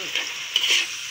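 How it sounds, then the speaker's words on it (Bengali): Chopped onions fry in hot oil in a pan, a steady close sizzle with light crackle for about a second, cooking as the base for a boal fish curry. "প্রথমে পেঁয়াজ কুচি ভেজে নিচ্ছি"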